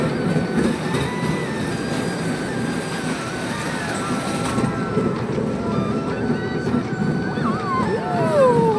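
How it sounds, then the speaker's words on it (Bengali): A toy train ride pulls away at a crowded fair, a continuous close rumble of wheels and running gear with a high squeal near the end, as voices murmur underneath. "আমাদের ট্রেন এখন ছেড়ে গেছে।"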